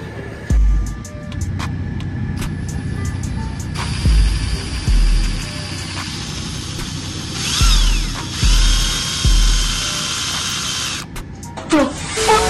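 Power drill driving screws into a car front lip on a Q50 in a garage, several loud whirring bursts of varying length with pauses between, close to the microphone.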